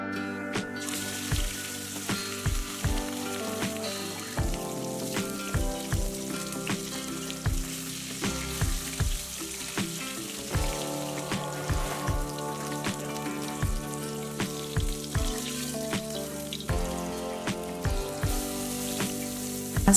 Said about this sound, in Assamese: প্ৰথমে কেৰাহীখন পাতি লৈ মই মাছখিনি ফ্ৰাই কৰি ল'লোঁ।